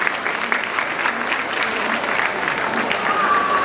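An audience at a Chauri Chaura centenary ceremony honouring freedom fighters' families claps steadily, a dense, even wash of applause from a crowd nearby throughout.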